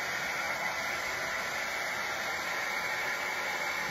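A hair dryer dries a coat of crackle paint, blowing a constant, even, airy roar close by for the whole stretch with no talking.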